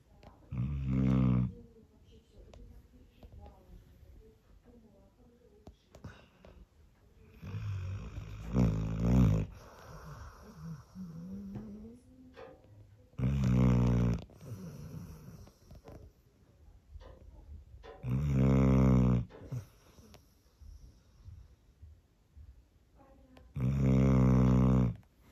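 A man snores in bed, close by: five loud, rasping snores come at regular intervals, with quiet breathing and faint rustling in between.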